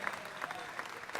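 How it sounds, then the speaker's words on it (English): Audience applause at an Ohio State Fair auction, a steady wash of clapping from a crowd filling the short moment without a break. "Give Steve a big round of applause as they come up, folks"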